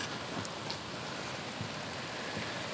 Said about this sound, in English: See, now it's really raining.